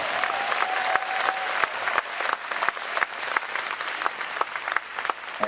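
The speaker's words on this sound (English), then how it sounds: "One round of applause for the band," An audience at a gospel show honoring a tribute act at a Tupelo festival applauds the band, producing dense, steady clapping throughout with sharp individual claps popping out of the wash.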